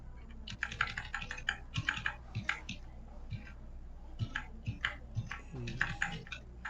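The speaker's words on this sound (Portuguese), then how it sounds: "Pode arrastar com o teclado, a setinha, para ficar bem alinhadinhos." Computer keyboard arrow keys pressed repeatedly to nudge items into alignment on a grid, a run of close, crisp clicks in uneven bursts over a steady low hum, with no voice.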